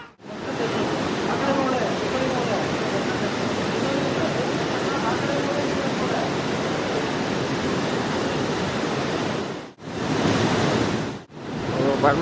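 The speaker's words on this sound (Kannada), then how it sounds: "ನೀರು ಹೋಗ್ತಿದೆ." Water rushing below at Kateel Durga Parameshwari temple makes a loud, steady roar close to the microphone, broken by two short dips in the sound near the end.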